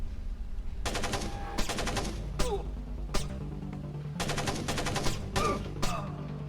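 Video game gunfire comes in repeated bursts of rapid automatic shots with short gaps between them. A few sharp single cracks fall between the volleys, loud and close over faint background sound.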